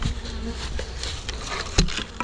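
Bees buzzing as a colony is moved into a hive outdoors in a bee yard, a steady close insect drone with a brief louder knock near the end, no talking.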